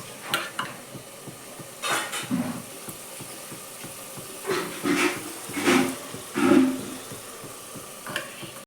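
Pav bhaji vegetables going into cooked gravy in a pan and being stirred, with scattered scraping and clanking of a spoon against the pan over a low sizzle, no one speaking.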